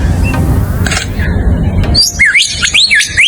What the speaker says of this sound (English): the lyrebird, a true master of mimicry